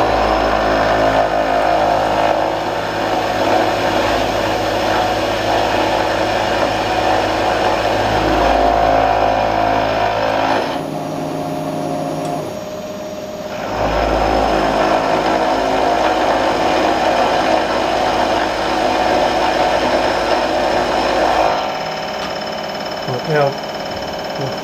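A machine tool takes a cut at about 1050 RPM and 40% feed rate, giving a loud, steady mechanical drone that drops back briefly midway, then resumes before easing off near the end.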